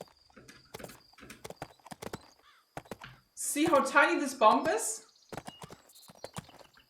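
Horse hooves clip-clop in the Bibi & Tina riding video game, a run of sharp, separate hoof knocks under a person's talking, with a brief whinny-like call in the middle.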